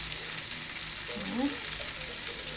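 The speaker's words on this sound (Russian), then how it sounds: "Быстро жарится." Kefir pancake batter frying in a hot pan, a soft steady sizzle running throughout, faint and close, with a brief spoken word over it.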